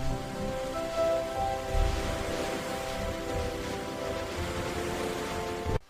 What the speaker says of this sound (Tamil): தண்ணி சூப்பரா ஊத்துது